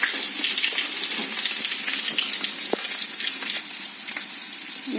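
Onion and green chilli fry in a pan with curry leaves and dried red chillies, giving a steady, bright, crackling sizzle with no talking.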